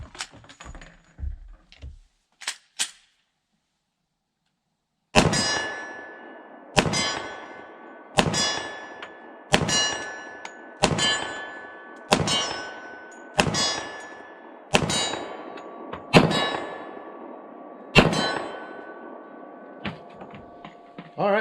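Bullets from a Smith & Wesson M2.0 10mm pistol striking a steel plate at 25 yards, about ten sharp metallic clangs spaced roughly one to two seconds apart, each ringing briefly, after a few quieter knocks at the start.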